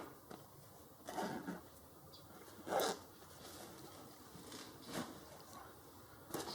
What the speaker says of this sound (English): So let me zip this up.